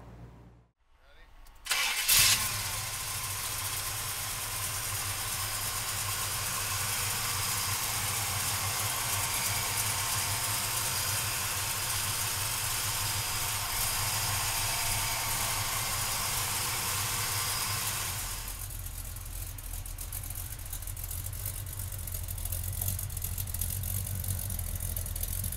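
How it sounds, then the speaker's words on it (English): A GM Performance crate V8 in a 1971 Chevrolet Chevelle cranks briefly, catches, and settles into a steady, loud, rumbling idle that holds for about twenty seconds before easing slightly, with a person talking faintly over it. "we'll fire this GM Performance crate motor up for you right now"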